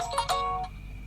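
A mobile phone plays a short melodic ringtone, a few bright chiming notes in quick succession lasting about half a second, fairly close, leaving low background hum behind.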